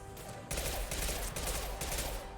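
A rapid burst of automatic gunfire in a video game shooter, loud and dense for about two seconds after a brief quieter lead-in, with heavy recoil.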